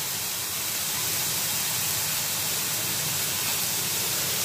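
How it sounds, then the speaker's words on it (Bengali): Water poured into a pan of frying vegetables, a loud steady steam hiss and sputter throughout, no voices. "ভাজিটার সাথে জল দিয়ে দিচ্ছি।"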